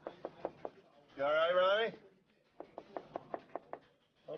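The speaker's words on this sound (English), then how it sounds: "knocking on the door on their hands and knees, sliding stuff on it" Sharp knuckle knocks rap on a studio door in quick bursts of four to six, separated by a brief shout, close and fairly loud.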